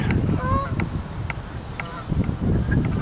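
Canada geese honk repeatedly in scattered calls, some near and some farther off, over a low rumbling background.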